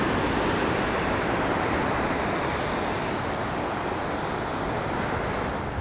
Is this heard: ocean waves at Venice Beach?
yes